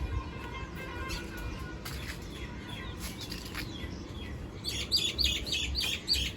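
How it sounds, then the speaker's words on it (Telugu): Many birds chirp and tweet outdoors in the early morning, calls scattered at first and growing busier and louder toward the end, with no talking. "పొద్దున్నే పక్షులు చూడ ఎట్లా అరుస్తున్నాయో"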